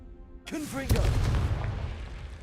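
Confringo blasting spell going off in a Harry Potter video game: a sharp boom after a brief whooshing build, then a rumbling low tail, with a voice briefly audible beforehand.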